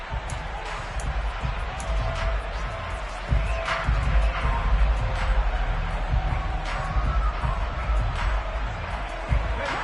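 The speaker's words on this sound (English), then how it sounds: "this crowd's going to get even louder" Crowd cheering in the Madden NFL 23 American football video game rises into a loud sustained stadium roar, with occasional sharp thuds and faint commentary underneath.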